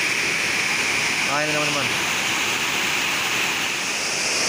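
River water rushes loudly over the Dutch-built Karacak dam weir. The roar is dense, continuous and close throughout, with someone speaking briefly over it.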